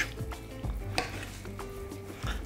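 A spoon stirs food in a pot with a few scraping knocks against the sides over a low bubbling simmer, close and moderately quiet, with no one talking.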